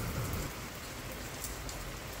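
Steady rain falls outdoors in a garden with earthenware pots, a continuous even hiss of drops on surfaces with no voices.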